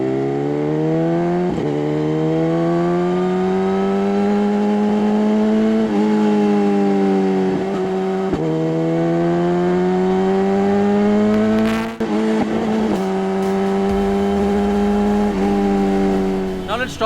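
A 2018 BMW S1000RR motorcycle accelerates hard on the road, its engine note rising in repeated sweeps broken by quick quickshifter upshifts, about half a dozen rapid gear changes, loud and close throughout.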